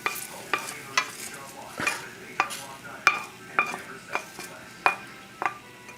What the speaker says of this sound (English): There's the vegetables and the grease from the bacon.